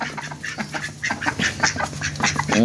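Ducks on a Bangladeshi homestead quack repeatedly in overlapping calls, close and fairly loud, while a flock gathers around feed of rice bran; no talking.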